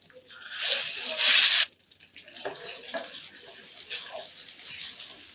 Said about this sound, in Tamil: கொஞ்சமாக ஜார் கழுவி தண்ணி சேர்த்துக்கலாம்